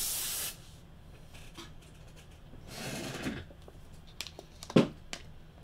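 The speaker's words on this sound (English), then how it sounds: "You guys are going to hear a little bit of air. I'm going to blow these dust particles out of here real quick." Short blasts of compressed air blowing dust off trading cards, with a sharp hiss at the start and a softer spray in the middle, followed by faint handling clicks and a small thump, all close and quiet.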